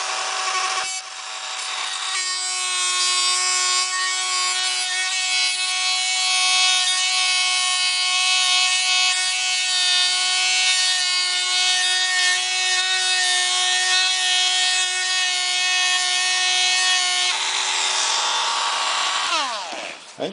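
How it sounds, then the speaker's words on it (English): A Dremel-type rotary tool fitted with a sandpaper bit sands down a piston ring end, a steady high-pitched whine with a rasping scrape held for about fifteen seconds, starting up and winding down at either end. "And just sand it down."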